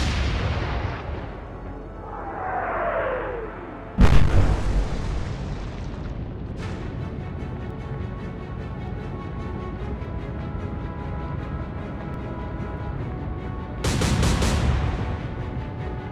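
Naval gunfire from the warship Admiral She firing on the Ajax, heard as a sudden loud boom followed by a sustained rumbling roar, with a whistling shell sweep before it and another heavy burst near the end.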